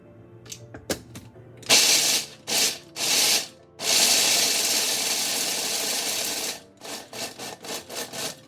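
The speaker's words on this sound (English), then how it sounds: "So I'm gonna grind these up." An electric grinder pulverizing ingredients for a recipe, loud whirring bursts in several short pulses, then one long sustained grind of a few seconds, followed by quick rapid pulses, close up with no speech.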